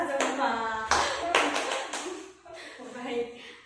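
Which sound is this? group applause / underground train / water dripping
group applause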